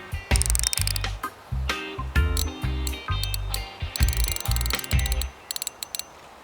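A fishing reel's drag clicks in fast ratcheting bursts while line is pulled, loud and close, with short pauses between runs and no talking.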